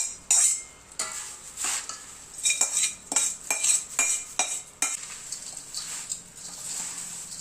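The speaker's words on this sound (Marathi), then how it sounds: "आता हे तेल छान आपल्याला चिवड्यावर घालून घ्यायचंय." Oil being poured over poha chivda and stirred in a pan, with close, irregular clinks and scrapes of a spoon against metal and a soft rustle of flakes between strokes.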